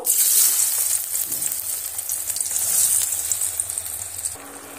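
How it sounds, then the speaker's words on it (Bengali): Turmeric-coated raw mango pieces fry in hot mustard oil for a mango pickle, giving a steady loud sizzle with a soft low hum beneath and occasional stirring scrapes, no talking. "এবার আমি হলুদ মাখা আমগুলো এবার আমি তেলের মধ্যে দিয়ে একটু নেড়েচেড়ে ভেজে নেব"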